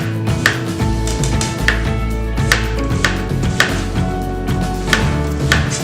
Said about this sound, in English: We're gonna slice our half onion just straight down.